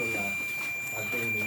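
A steady, high electronic warning beep from a Pulsar NS 150/160 motorcycle sounds continuously, with a voice talking faintly underneath.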